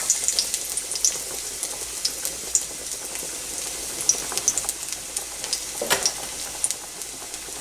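Finely chopped garlic cloves sizzle and crackle in hot cooking oil in a pan, a steady close frying hiss with scattered pops and occasional stirring, with no talking.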